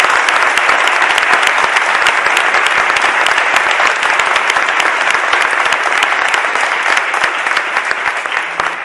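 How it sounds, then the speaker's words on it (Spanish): Sustained applause from an audience, dense and steady clapping at full volume throughout with no pause. "Y un aplauso para vosotros."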